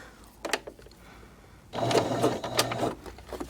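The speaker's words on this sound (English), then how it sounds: "now I'm going to start with a back stitch again" A sewing machine back stitching a zipper top stitch: a few short stitch bursts, then a steady close whirring run of stitching.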